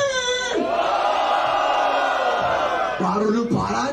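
Loud crowd at a Brazilian freestyle rap battle, Batalha da Aldeia, roaring and shouting together in a sustained wall of cheering voices that swells and dips near the end.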